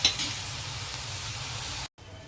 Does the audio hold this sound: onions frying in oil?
yes